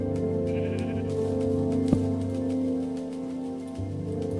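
Sheep in a video game bleat in a steady, drawn-out wavering tone over a constant game backdrop, with one short sharp tick partway through, close and moderately loud.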